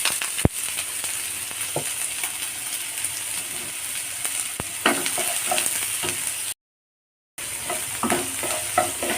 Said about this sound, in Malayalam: ഞാൻ വെളിച്ചെണ്ണ ഒഴിച്ചു കൊടുക്കുന്നുണ്ട് നമുക്ക് സവോള പച്ചമുളക് എല്ലാം ഇട്ട് കൊടുക്കാം